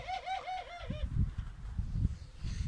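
A male pied turtle dove's wavering, warbling coo rises briefly, then gives way to soft clucking from hens and shuffling sounds nearby.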